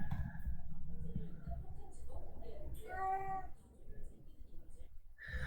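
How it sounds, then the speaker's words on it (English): A house cat gives a short meow that rises above continuous talking, close to the microphone and fairly clear for under a second. "we applied our classifier to the meowing sound from a teammate's cats."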